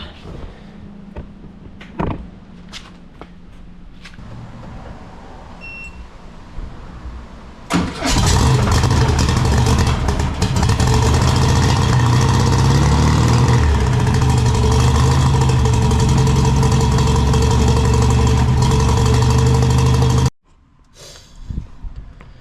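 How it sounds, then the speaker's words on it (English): A car that had sat with a weak battery cranks briefly after a few clicks, then its engine catches and settles into a loud, steady rumbling idle close by for about twelve seconds before cutting off abruptly. "Let's see if this thing starts up."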